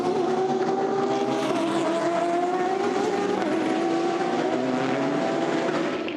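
Race cars at Le Mans scream past, including the battling Toyota prototypes, with a loud, continuous high-revving engine wail that shifts pitch steadily as the cars pass, without any voices.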